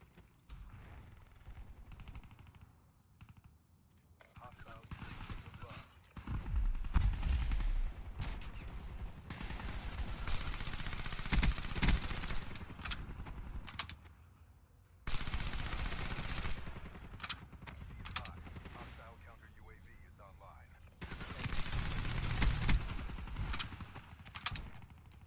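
Heavy automatic gunfire in Call of Duty Black Ops 3, loud sustained bursts with mechanical clatter, breaking off and resuming several times alone without talk.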